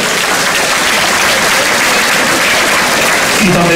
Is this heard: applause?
yes